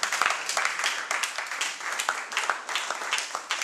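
A church congregation at a pastor's consecration service claps together in a lively, uneven burst of applause that runs the whole time, with a few voices mixed in.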